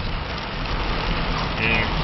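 Heavy rain pours down onto a house and the ground around it, a dense, steady hiss and patter that holds at the same level throughout, close and fairly loud.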